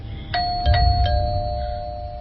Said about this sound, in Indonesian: kali ini bel terus berbunyi.